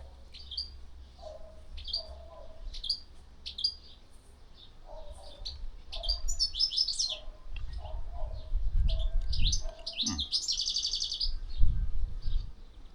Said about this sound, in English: Golden finch up there.